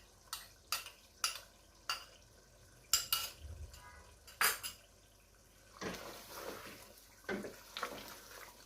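Whipped yogurt is stirred into meat cooking in a pot for kachnar gosht: a close run of regular spoon clanks against the metal pot, then wetter, softer scraping and squelching as the mixture is worked.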